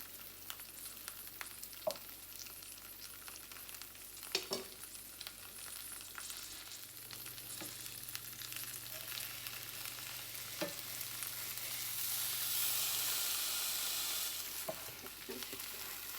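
Veggies and steak for quesadillas frying gently in a pan with cooking spray over moderate heat, a soft continuous sizzle with occasional faint clicks and stirring, quiet and steady, swelling slightly toward the end.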